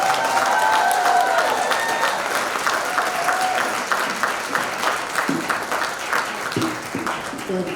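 A large convocation audience applauds student participants on Founders' Day, sustained dense clapping that fills the hall, gradually thinning with scattered claps toward the end.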